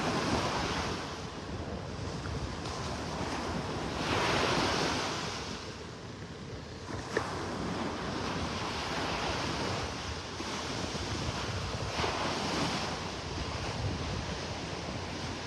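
Surf breaking steadily on a Gulf beach at Vanderbilt Beach, North Naples, with broad washes rising and falling over wind noise across the whole stretch and no voices.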